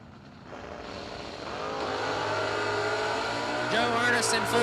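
A Mopar drag race car accelerates hard down the strip at a memorial drag race, its engine note climbing loudly over a few seconds while an announcer talks over it.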